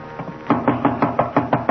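Knuckles rap on a bedroom door in an old-time radio detective drama, a steady series of about seven firm, close wooden knocks at an even quick pace, with no voices.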